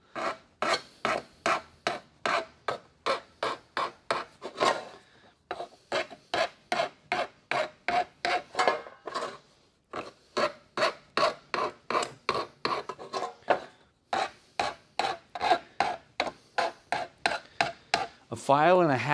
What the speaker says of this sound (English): Now I want to file these corners down a little bit.